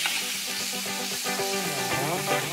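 Cut paneer sizzles and crackles in hot oil in a pan while making dalia pulao, a steady close frying hiss with small pops and occasional stirring, no talking.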